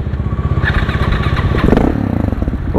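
A KTM SMC 690 single-cylinder motorcycle of about 700 cc revs loudly and close by, its engine note rising and surging with a rough, pulsing rhythm throughout.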